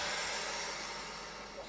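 A Wevac CV12 Pro vacuum sealer pumps air from a bag of chicken cubes, a steady close whirring motor drone that holds at even loudness throughout.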